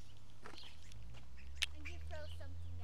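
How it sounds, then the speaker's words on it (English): Birds call outdoors near a street, giving a few squawking, duck-like calls and short chirps that rise and fall over a low steady background hum while people talk. "Do you hear those birds?"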